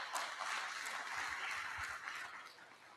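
Audience applause for Brandon Novak at Henrico Jail East, a steady dense wash of clapping held for about three seconds, fading slightly at the end.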